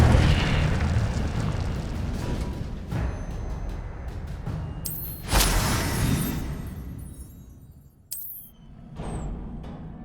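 The Incendio fire spell cast in the video game Hogwarts Legacy: a roaring, rumbling fiery burst that fades, followed by a couple of sharper magical bursts and crackles.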